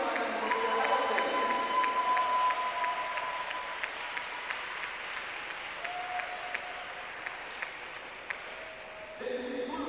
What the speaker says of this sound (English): Ladies and gentlemen, please give a round of applause for number 8, Allison Gurley